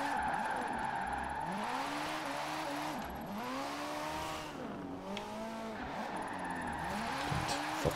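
Tires squeal and skid repeatedly in long sweeping slides over a steady engine roar, a continuous drift in Forza Horizon 4 with rising and falling pitch.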